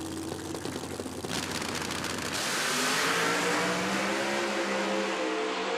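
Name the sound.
turbocharged Mustang drag car accelerating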